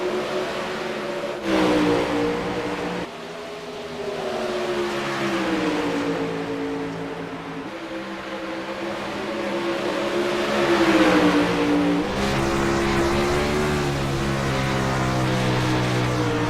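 Race cars circle a track during a broadcast event, a continuous loud engine drone that rises and falls in pitch as cars pass and shift, with several overlapping engines throughout.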